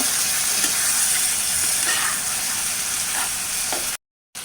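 Silver carp curry with potato sizzling in a pan, stirred with a few soft scrapes over a steady, close frying hiss that cuts off briefly near the end.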